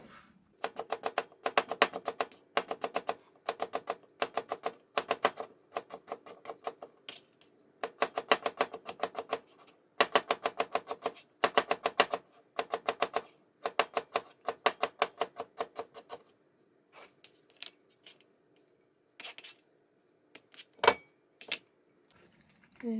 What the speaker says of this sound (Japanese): これをやはり小口切りにしていきます。